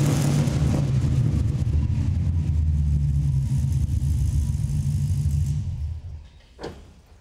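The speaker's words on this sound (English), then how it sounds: "when he gets on that throttle, it'll rap a little louder" A 1969 Dodge Charger fitted with a Hellcat engine rumbles with a deep, loud exhaust note, a sustained revving drone that holds steady before dropping off sharply, ending with a brief low thump.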